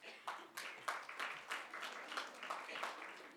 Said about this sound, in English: just 5 seconds for you all to clap